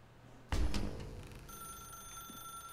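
A telephone rings in The Stanley Parable video game, one sharp bell burst followed by a steady electronic trill that lingers faintly over a low room hum.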